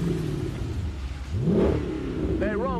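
A police car engine revs loudly up and down close by, with a rising whine that swells midway, under someone speaking.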